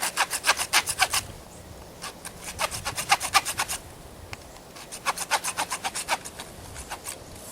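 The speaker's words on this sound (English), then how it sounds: "You can do it with a knife, but for time's sake, I'm just going to do it with the saw." A saw cuts through a deer leg joint bone during field dressing, fast rhythmic rasping strokes in quick bursts with short pauses between, close and clear.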